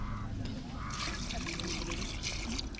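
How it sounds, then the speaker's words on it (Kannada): Native cow's milk poured into a panchagavya mix, a steady continuous trickle and splash that runs the whole time at moderate level with a faint background hum. "ನೀರು ಹಾಕಿದ ನಂತರ 1/4 ಲೀಟ್ರ್ ನಾಟಿ ಹಸಿನ ಹಾಲನ್ನು ಹಾಕಬೇಕು"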